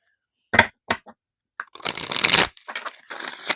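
Tarot cards are shuffled close up in short bursts: a few crisp separate slaps, then a longer papery riffle and more brief rustling shuffles.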